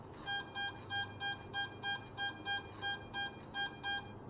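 A metal detector with an NEL Snake coil gives a high tone over a target at 6 inches, a clear electronic beep repeating about thirteen times in a steady rhythm over faint background hiss.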